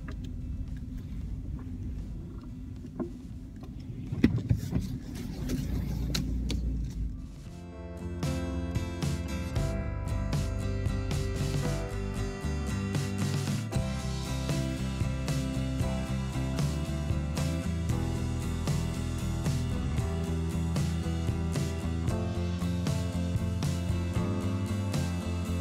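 Car driving along a road, a steady engine and tyre rumble that continues loud throughout, after a short stretch of quieter interior noise and shuffling at the start.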